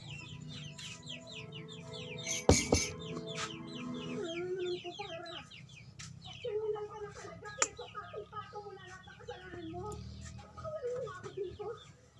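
Chickens cluck and chatter continuously nearby, a busy flock with one sharp loud knock partway through and faint voices in the background.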